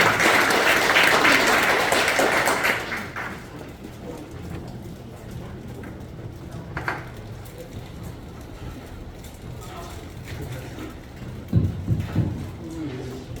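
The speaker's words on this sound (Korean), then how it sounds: "큰 박수 부탁드립니다." An audience at a civic event on a citizen-led solar power project applauds loudly for about three seconds, then the clapping fades to a quiet room with scattered handling sounds.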